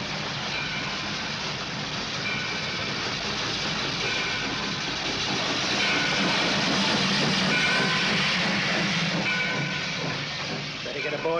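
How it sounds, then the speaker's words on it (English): A steam train approaches a small-town station, its broad steady hiss and rumble swelling slightly toward the middle, with faint rhythmic clatter of wheels and voices mixed in. "I can hear the train coming now"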